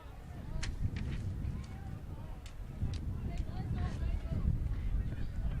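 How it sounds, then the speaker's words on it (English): Gusting wind blows across an outdoor college women's ultimate frisbee game, a steady low rumble of buffeting that rises and falls in strength throughout, with faint activity in the background. "The wind has been a bit gusting."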